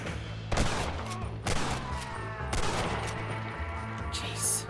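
A Gatling gun fires in Red Dead Redemption with dense, rapid bursts of cracking shots. They hit in several loud surges over a steady rumbling game background, close and continuous.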